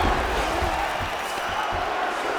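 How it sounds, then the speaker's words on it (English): Arena crowd cheering and applauding during a UFC 5 fight as the fighters scramble back to their feet, a dense, steady roar of massed voices with occasional thumps, under commentary. "So the crowd absolutely loving it as these fighters work their way back to the feet"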